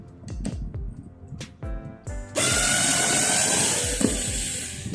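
A cordless battery screwdriver backs a screw out of UPVC: short stop-start bursts and ratcheting clicks, then a steady, louder whirring drive that runs to the end, close up with no talk.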